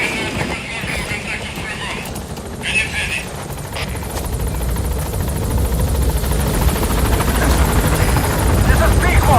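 Pequod, a transport helicopter in the video game Metal Gear Solid V: The Phantom Pain, arriving at a landing zone: a steady, loud rotor drone that builds gradually and stays constant, with brief radio-style voice fragments early on.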